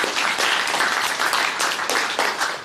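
An audience at a startup pitch event applauds in a steady, dense wash of clapping, close and loud throughout, with a faint voice or two under it.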